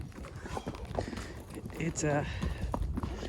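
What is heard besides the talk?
horse hooves stepping carefully across slick rock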